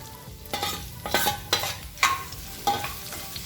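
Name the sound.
sautéing ginger-garlic paste and onions in a pan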